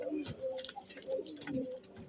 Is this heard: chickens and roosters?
no